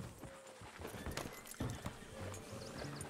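In Red Dead Redemption 2, hooves clip-clop at a steady trot amid ambient outdoor noise, with a brief horse whinny.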